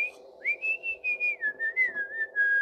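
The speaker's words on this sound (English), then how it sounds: "thanks to my son for whistling the tune to Steamboat Willie." A person whistles the Steamboat Willie tune alone, clear and close, the notes gliding and stepping in a steady phrase with a low background hum.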